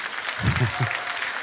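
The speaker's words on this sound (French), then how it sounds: "Est-ce que vous pouvez encore une fois les applaudir?" An audience at the 2013 Jeux de la Francophonie in France applauds. A short burst of clapping mixes with a voice.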